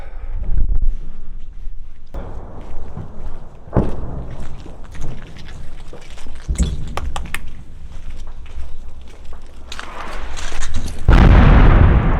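Several loud, booming artillery blasts strike one after another in Bakhmut, with sharp impacts and rumbling decay, ending in a heavy roaring burst.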